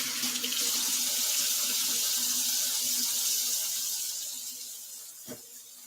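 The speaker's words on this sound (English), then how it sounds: "Actually, let me wash my hands." A running kitchen tap gushes steadily into a sink while hands are washed under it, a loud continuous water hiss that eases near the end, with a brief clunk.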